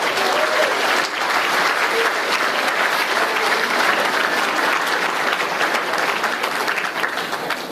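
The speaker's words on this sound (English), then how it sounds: "we should all have a round of applause for this" Sustained applause from an audience of 331 at a Manitoba Basketball Hall of Fame induction, dense and loud throughout, with a faint voice near the start.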